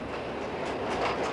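A train rumbles past close by in Colombo, Sri Lanka: a brief, loud, steady roar with rattling wheel noise.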